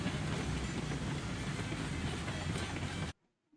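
Train in the video game Railroads Online rolling along with steady rumbling and rail clatter, which cuts off abruptly near the end. No talking.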